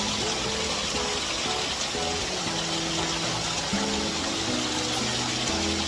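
Waterfall in Gangtok, a steady broadband rush of flowing water that stays loud and continuous throughout, with faint low tones running underneath.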